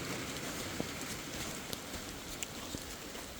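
Heavy rain with large drops falls steadily outdoors, a dense even hiss broken by a few sharper drop impacts.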